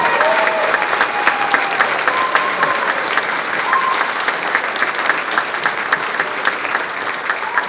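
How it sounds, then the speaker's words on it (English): A large concert audience applauds teachers being honored, steady dense clapping filling the hall throughout, loud and sustained with no talk over it. "could we have a round of applause for these incredible teachers who have touched so many people's lives?"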